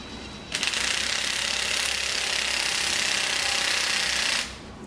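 Steady mechanical clicking from a ratchet tightening the flange on a homemade LS turbo downpipe for a C10 truck, running continuously for about four seconds at close range with no talk.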